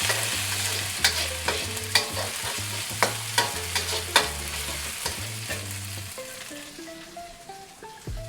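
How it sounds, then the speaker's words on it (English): Garlic and chili sizzling in 3 to 4 tablespoons of hot oil in a pan, quickly tossed, with steady frying hiss and regular scraping stir clatters over soft background music. "I'm gonna add a lot of oil. This is about 3 to 4 tablespoons of oil. Garlic and chili. You wanna quickly toss these around."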